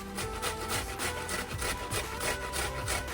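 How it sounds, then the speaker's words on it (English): A tomato is rubbed against a grater with quick, regular rasping strokes, a steady wet scraping rhythm heard close and clear with no talk. "what you want is basically all the skin to be left on the other side of the grater"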